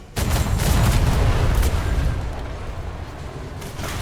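Ship cannons firing in a naval video game, a heavy rumbling barrage of booms that runs for several seconds and stays dense and low-pitched, with no talk over it.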